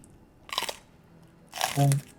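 Two crisp, close crunching bites into a slightly moldy snack, a short first crunch followed by a louder second bite with chewing, with no speech over them.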